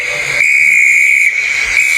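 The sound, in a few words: conductor blowing train whistle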